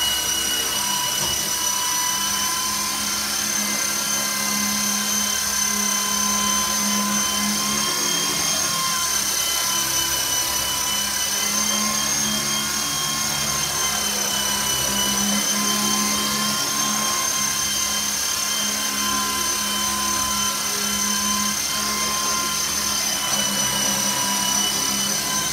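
A WLtoys V912B brushless remote-control helicopter flies close by, its high motor whine and rotor buzz steady and loud throughout with strong harmonic tones, no talking over it.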